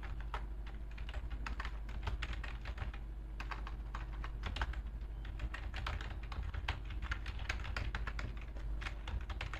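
Rapid, continuous typing on a computer keyboard while writing code, with dense irregular key clicks running steadily throughout at close range against a low background hum, with no talking.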